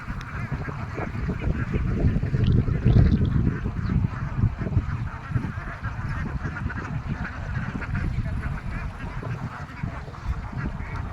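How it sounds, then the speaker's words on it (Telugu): A flock of ducks quacking and honking continuously, a dense overlapping chorus close by with steady loudness throughout. "ఇదిగోండి బాతులు"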